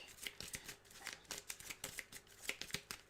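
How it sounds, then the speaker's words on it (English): A deck of cards is shuffled during a live board game playthrough. Rapid, quiet riffling clicks and flicks follow one another in a steady patter, close by, without talk. "And then we have to shuffle our deck."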